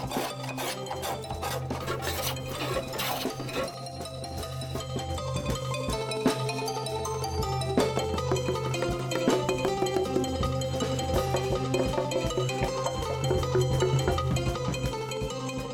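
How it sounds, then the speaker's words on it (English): A craftsman polishes the wooden front parts of a Kyrgyz komooz, making continuous close rasping and rubbing strokes in a busy workshop, with faint metallic ringing and clatter behind. "At the moment, craftsman is polishing front parts of komooz"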